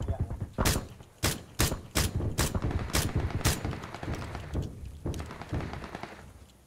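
Loud, sharp bursts of gunfire from an online squad shooter match, several spaced shots close together in the first few seconds, then softer scattered shots, with faint movement and thuds between them.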